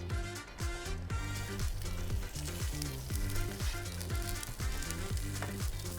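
Scallions sear in a hot pan, making a constant, even sizzle that runs under background music.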